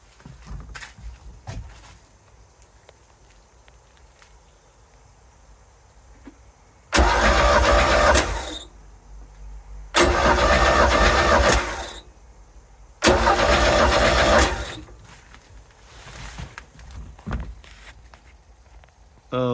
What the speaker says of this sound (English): I'm gonna crank the engine 3 times and see if it starts.